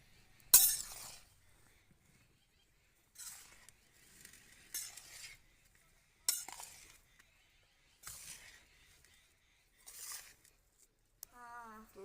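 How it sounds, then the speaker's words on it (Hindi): Sugar being mixed into flour by hand for aloe vera laddu makes short, gritty rustling bursts separated by quiet pauses, close and faint, with a brief tonal sound at the end. "ये सारी की सारी चीनी मिक्स कर लेंगे।"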